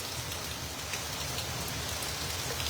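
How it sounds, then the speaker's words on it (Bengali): Steady heavy rain pouring down on a New York street, a dense continuous hiss with water splashing on surfaces and running along the roadside, no voices. "এই যে ভারী বৃষ্টি দেখেন, রাস্তার কিনারে পানি কিভাবে যাইতেছে।"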